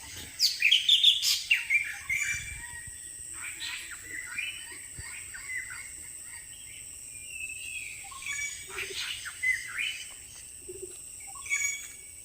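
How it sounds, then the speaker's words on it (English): A lively chorus of varied birdsong from around 15 to 20 species, chirps and whistles overlapping in the Parambikulam forest, with a faint insect hum in the background. "It was a beautiful medley of around 15 to 20 species of birds."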